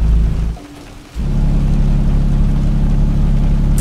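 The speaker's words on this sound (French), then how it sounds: "il y a des éclairs, mais c'est qu'il y a de l'orage en plus." Steady heavy rain with deep thunder rumble in Euro Truck Simulator 2, a constant loud wash over a low truck-engine drone that dips briefly before returning, with no talk.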